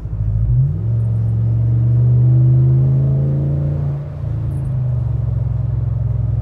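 Deep exhaust rumble of a Ram 1500 HEMI V8 swelling as the truck accelerates hard, pitch climbing steadily, heard from inside the cab, then settling into a lower drone.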